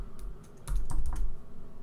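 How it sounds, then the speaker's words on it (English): Computer keyboard keys typed in a short quick burst at close range, a handful of soft clicks with no voices. "we're going to type Apple."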